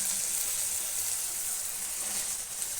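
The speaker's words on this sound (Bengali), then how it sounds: "দেখো কড়াতে তেল ছেড়ে দিচ্ছে মশলা থেকে, মশলা ঠিক কষানো হয়ে গেছে" Masala spices fry in oil in a kadai with a steady, close hiss and crackle, a continuous sizzle with no talking.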